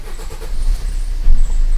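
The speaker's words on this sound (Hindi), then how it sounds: "ये हमने गाड़ी स्टार्ट कर दिया है" A Maruti Suzuki Swift Dzire with a check engine light fault after a mass air flow sensor replacement starts up close by, a short crank followed by a low engine rumble that settles into idle.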